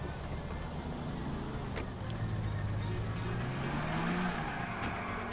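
A car driven in the video game GTA IV, a steady engine hum with a rising and falling drone near and continuous, over ambient game noise for about five seconds.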